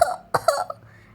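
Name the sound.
storyteller imitating a cough, Peppa Pig story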